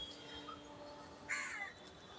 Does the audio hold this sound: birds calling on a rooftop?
yes